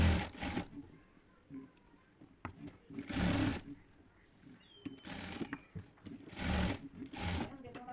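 A sewing machine stitches down fabric leaves along an embroidered vine in several short whirring bursts separated by pauses. A voice talks quietly in the gaps.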